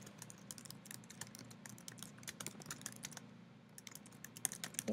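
Fast typing on a computer keyboard, a dense stream of light, close key clicks over a low steady hum, with no voices.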